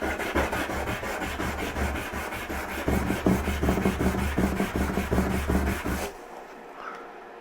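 An abrasive scrubby pad scrubs rust off a snowboard base in steady, rapid back-and-forth rasping strokes, close and fairly loud, continuing for about six seconds before stopping abruptly into near silence.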